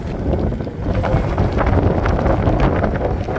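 Heavy wind buffeting the microphone while riding a Lectric XP Lite electric bike, a loud, steady low roar that continues throughout with no speech.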